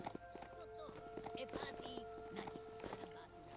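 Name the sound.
robot horse hooves clip-clopping in the video game Biomutant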